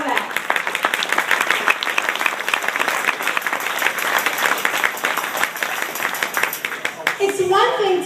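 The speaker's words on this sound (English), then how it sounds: "So you want to give yourself a round of applause just for that." Audience applause at an employer awards event, a dense, loud wash of clapping from a room full of people that runs the whole time, with a voice coming in near the end.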